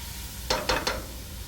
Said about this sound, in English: Just going to let it cook and keep stirring.